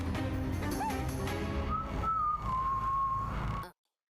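Someone whistles a short melodic tune, notes sliding and then holding a long tone, over background sound, ending abruptly in silence.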